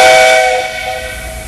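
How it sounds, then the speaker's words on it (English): A loud, steady shrill conductor's whistle with a steam hiss, tonal bands holding then fading slightly over about a second and a half. "Did you get your whistle fixed, Mr. C?"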